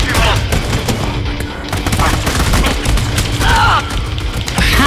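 Dense game gunfire from the PS3 shooter Army of Two, a continuous fusillade of shots and booms, loud and close, with a voice talking over it at points.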